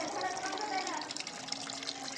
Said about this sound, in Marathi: याही बॉटल मधलं पाणी गळत आहे